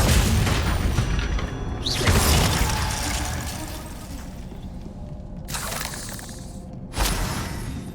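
An ice spell shatters in Hogwarts Legacy combat with loud crystalline cracks and breaking bursts, one near the start and sharper ones later, over a dense rumbling game soundscape with no talking.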